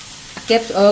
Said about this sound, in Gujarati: આ બધા શાકભાજી આપણે નાખી દેશું અને એને આપણે 2 થી 3 મિનિટ સાંતળી લેશું.